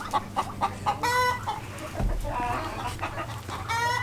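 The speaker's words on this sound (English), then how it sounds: "have one of the roosters and a chicken" A rooster and a hen call from a backyard flock in spring, with sharp, repeated clucks and squawks that come in bursts, some loud and close, others softer, with brief pauses between them.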